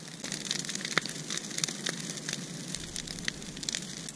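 Brush pile of pine burning outdoors on a still, dewy morning, giving steady crackling and sizzling with sharp pops scattered throughout, close and continuous with no talking.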